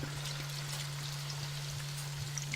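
A bottle of beer poured into a braising Chinese pork stew, a steady liquid splash and gurgle running continuously under a faint constant hum, with no talking.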